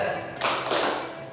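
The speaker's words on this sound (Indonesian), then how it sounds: "Tepuk tunggal." A group of people claps once in unison during a classroom session, giving a short, sharp burst of sound followed by a brief second hit.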